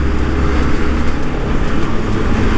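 A Yamaha MT15 motorcycle pulls in third gear from low speed, a loud, close, steady engine drone mixed with heavy wind rush, no speech.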